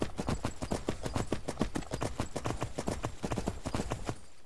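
Hooves of a horse from Skyrim mobs in Garry's Mod clip-clop in a steady, rapid rhythm. The close, distinct hoofbeats continue for about four seconds, then stop.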